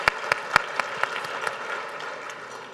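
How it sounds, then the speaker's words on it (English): Applause from a government planning event audience for Harris County Precinct 4, beginning with a few sharp individual claps that swell into steady, moderately loud clapping before tapering off, with no voices over it. "Let's give a round of applause."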